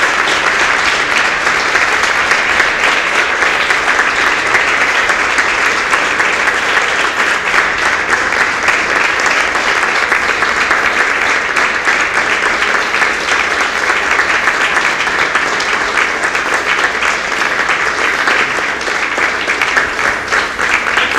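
A Spanish-speaking church congregation at a Sunday service applauds at length, a loud, dense, even wash of clapping that holds steady for the whole stretch.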